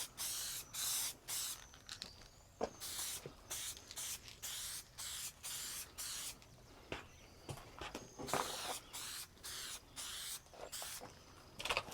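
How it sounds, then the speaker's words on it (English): Spray paint can hissing in repeated short bursts, close and fairly quiet, each spurt lasting under a second with brief pauses between, alone without talk. "Then we can spray paint it."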